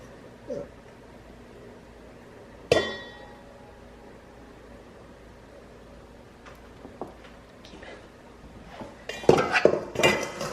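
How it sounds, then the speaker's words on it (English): Blueberry bread batter is scraped from a bowl into a greased loaf pan, a sharp metallic clang followed by scattered clinks, then a busy burst of scraping and clattering near the end. "you just transfer them over and put this all into that loaf pan that you've already greased"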